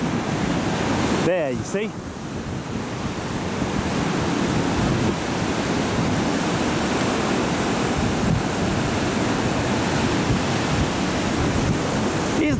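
Ocean waves break on a beach where a surfer is in trouble, making a continuous loud roar of surf and wash with wind buffeting the microphone, while someone briefly speaks near the start.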